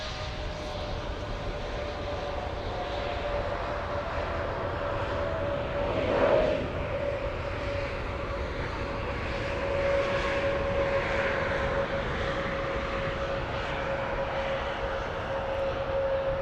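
A Swiss airliner passes at Munich airport as a steady, broad jet roar with a sustained engine whine, swelling slightly around the middle and again later, with no talk.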